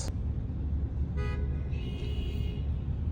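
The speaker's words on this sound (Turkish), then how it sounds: "Bakın yine korna seslerini duyuyorsunuz." Car horns honk briefly amid a constant low rumble of city traffic, with a tonal horn blast standing out over the steady road noise.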